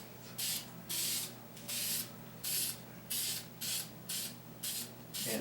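Light dusting of yellow spray paint from an aerosol can: a series of about nine short, hissing bursts in a steady rhythm, close up and fairly quiet, with brief pauses between each spray.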